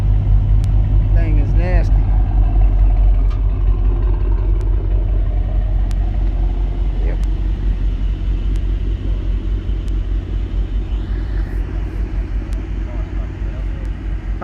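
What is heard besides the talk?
Mercedes-AMG GT63S engine rumbling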